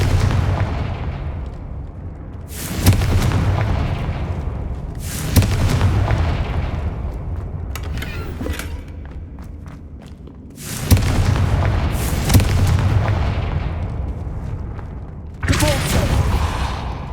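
Confringo blasting spells in Hogwarts Legacy explode one after another, roughly six heavy booming blasts at irregular intervals, each with a loud crack and rumbling decay over a continuous background roar.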